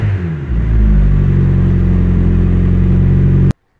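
A turbocharged Honda Civic D16 engine running on E85 fires up and holds a loud, steady high rev close by for about three seconds before cutting off abruptly, with no talking.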